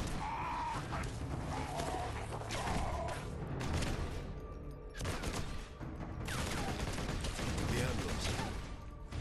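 Rapid gunfire bursts from a Space Marine in a Warhammer 40K video game, dense and continuous over game music and effects, with someone talking intermittently over it.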